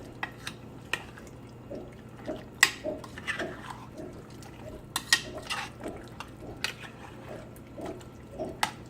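BBQ sauce with pineapple is stirred in a pot, producing faint, soft liquid sloshes and occasional light clinks of the utensil against the pot, spaced irregularly at a quiet level.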